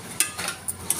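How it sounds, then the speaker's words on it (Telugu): Spice powders and chili powder being stirred together in a pan make a handful of short, scraping strokes with light metallic clinks, spaced irregularly and heard up close with no talking. "ఇవన్నీ మనం మిక్స్ చేసుకోవాలి మొత్తం అంతా"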